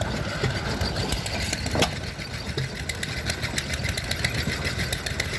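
An antique single-cylinder threshing engine runs at a steady, low mechanical chug, fairly loud and close, with a continuous rumble and faint rhythmic knocking and no talk over it.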